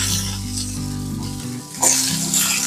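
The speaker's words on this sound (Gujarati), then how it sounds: "અહીંયા મરચાં મસ્ત સંતળાઈ ગયા છે" Green chillies, grated ginger and white sesame seeds sauté in hot oil, crackling with a loud, continuous sizzle and the scrape of stirring, close up.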